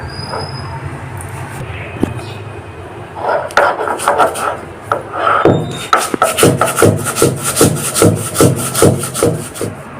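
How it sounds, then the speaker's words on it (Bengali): Poppy seeds with five green chillies and a little salt are ground by hand on a grinding stone, rough scraping strokes repeating in a fast rhythm close up, with a few knocks and clatters before the steady grinding begins. "এখন আমি এটাকে বেটে নেব।"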